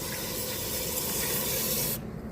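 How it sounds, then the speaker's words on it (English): A steady, loud, close hiss of spray cleaner aimed into a Honda GCV small-engine carburetor, running continuously for about two seconds before stopping abruptly. "So now we're just going to spray it down a little bit."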